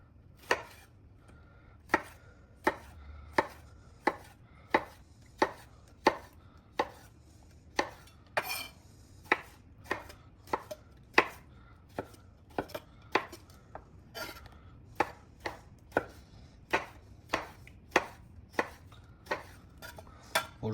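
Steady knife chopping of cucumber and tomato on a board, about one crisp cut per second, close and clear, with no talk over it.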